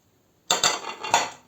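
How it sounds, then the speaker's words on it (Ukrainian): Utensils clink and scrape in a bowl as a Kyiv salad is mixed, a short burst of a few clattering strokes right after silence. "змішуємо це все салат"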